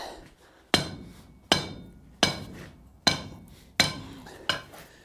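Six evenly spaced hammer blows strike metal shaped on a bowl stake, each a sharp clang with a bright ringing decay, close and clear with no talking.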